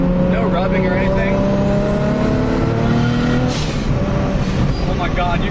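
A 1JZ-swapped Datsun 280Z drives through corners at a decent speed, its engine droning steadily with shifting pitch and a brief whistling rise, while people talk over it inside the car.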